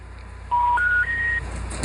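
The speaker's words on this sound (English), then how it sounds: "I call 911." A telephone keypad sounds its dialing tones while calling 911, three short stepped beeps rising in pitch over a low hum, clear and close with no talking.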